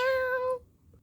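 A cat lets out one short, clear meow, close and steady for about half a second before cutting off into near silence.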